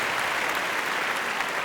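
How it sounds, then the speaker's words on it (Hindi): Dense, steady applause from an awards-show audience cheering Shahrukh Khan at the Zee Cine Awards 2011, a continuous roar of many hands clapping with no voices over it. "शाहरुख खान के लिए जोरदार तालियां।"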